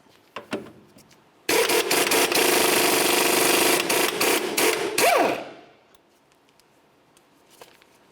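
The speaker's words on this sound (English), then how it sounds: "To remove this, we're going to use an 18mm socket." A power tool with an 18mm socket spins loose the outer tie rod end nut on a 2005-2010 Chevrolet Cobalt, a loud, sustained whir of about four seconds that winds down, framed by a few sharp clicks before and after.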